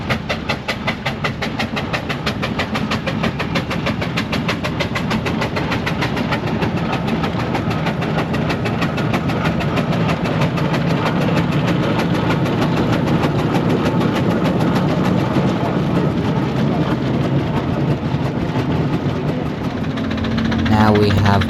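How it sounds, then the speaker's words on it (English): A steam traction engine runs at a steam rally, a loud, steady mechanical chugging continuously nearby, with a rhythmic knocking beat and rumbling low end throughout. "Here is then what I believe to be a Ransom traction engine"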